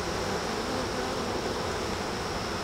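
Honey bees buzz in a dense, continuous drone at an open hive full of brood, larvae and eggs, steady and close throughout without any voices.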